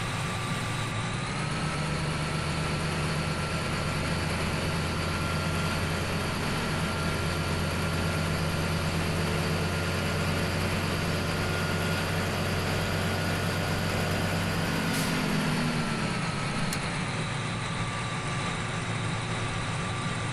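Two tractors run together on a field in Farming Simulator 17, giving a steady, unbroken engine drone with a low rumble that holds at the same loudness throughout, with no voices.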